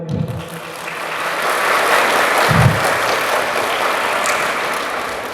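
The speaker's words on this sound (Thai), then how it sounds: "ขอเสียงปรบมือด้วยครับ" Audience applause at a temple activity closing event at Wat Sai Ngam, a broad steady wash of clapping from a large crowd, loud and continuous with a couple of low thumps near the microphone.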